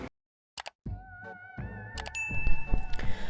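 A bright electronic ding rings out after a few soft clicks, its clear tone lingering over faint background noise.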